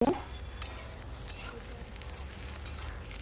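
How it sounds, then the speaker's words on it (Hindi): Capsicum cooks in a pan with a faint, steady sizzle and soft crackling that holds at low volume throughout. "अब इसे हम बीच बीच में ढक ढक के पकाते रहेंगे ताकि अच्छे से शिमला मिर्च हमारी पक जाए"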